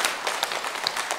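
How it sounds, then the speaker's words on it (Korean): Applause from a church congregation during a worship service, a short burst of many hands clapping, fairly soft and slightly distant. "우리 박수 한번 칠까요"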